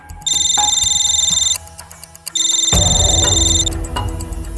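A telephone rings in an office, sounding two long electronic trilling bursts close and loud, the second followed by a low rumbling background bed.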